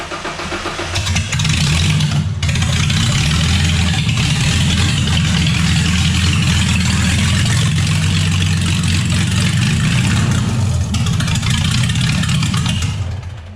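A car engine cranks and catches after an evap canister fix, then settles into a loud, steady close-up idle with a rough low rumble before cutting off at the end.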